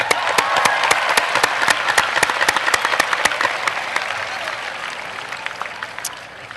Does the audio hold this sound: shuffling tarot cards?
no